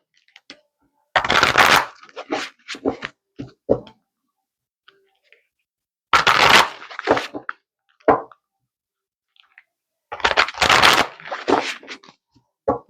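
Three separate bursts of tarot cards being riffled and shuffled close by, each a quick fluttering rush followed by a few taps as the deck is squared, with silence between.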